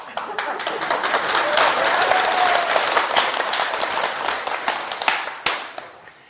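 Audience applause at a lecture, a dense burst of many hands clapping that swells, then thins out toward the end.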